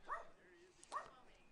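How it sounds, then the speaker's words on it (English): A dog lets out two short, faint barks about a second apart, heard distantly beneath a baseball game broadcast with commentators talking. "You hear the dog bark every time I say Brady."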